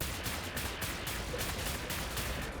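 Rapid gunfire rattles in Wolfenstein: The New Order, with dense, repeated shots in quick succession forming a continuous, fairly loud barrage with no speech.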